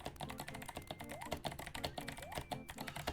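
Loud computer keyboard typing during a Mario Teaches Typing session, rapid irregular clacking keystrokes close to the microphone, with faint game music tones underneath.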